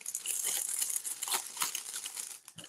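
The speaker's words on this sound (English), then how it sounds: "Get all the little plastic bags for this set." Small plastic bags from a doll fashion set crinkle and rustle close by in a quick series of sharp crackles, loud and without talk.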